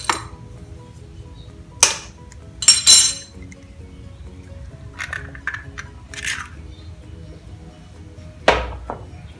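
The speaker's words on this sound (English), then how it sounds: "Then after that, you want to crack in 1 egg." An egg cracked against a bowl and mixed while making mini sausage buns: a few sharp clinks and taps on the bowl scattered across a quiet background, with some softer scraping in between.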